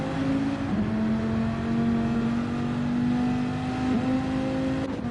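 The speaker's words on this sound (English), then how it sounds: "Why does her car sound so much different to everyone else's?" A Gr.4 race car engine in Gran Turismo 7 drones at steady high revs with a whining tone and small gear-change dips, constant and fairly close with no talk.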